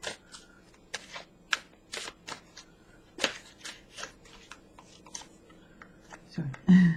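Angel cards being shuffled by hand, a run of crisp riffling flicks and soft taps at close range, with a brief louder rustle near the end.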